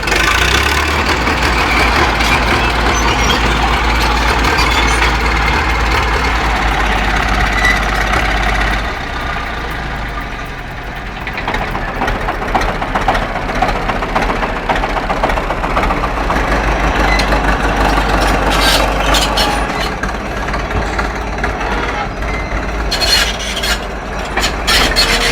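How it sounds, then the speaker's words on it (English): An old crawler tractor engine runs loud and close as a steady, rough mechanical roar, easing briefly near the middle before picking back up with rattling clatter. "When it fires up today, that deep, thunderous roar isn't just sound."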